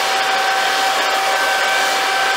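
Hair dryer blowing continuously while drying dew off a telescope, a loud steady whooshing roar with a faint motor whine, close and uninterrupted, no talking.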